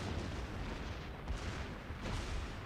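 A warship blowing up in the naval battle game World of Warships, a sustained dense rumble of blasts and booms that stays loud and rough for a few seconds with no voices.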